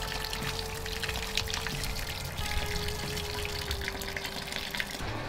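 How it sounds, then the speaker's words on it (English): A brewing pump recirculates wort from the bottom of the mash and back through it while brewing a mango pale ale, giving a steady, continuous rush of flowing liquid with a faint hum, close and unbroken throughout. "So we are now recirculating through the mash bit."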